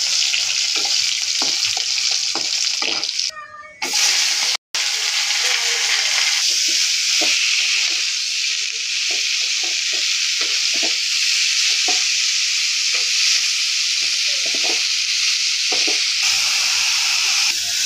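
Dried chillies and garlic frying in a hot pan give a steady, close sizzle and hiss that carries on throughout, with brief stir-like breaks early on and no voices.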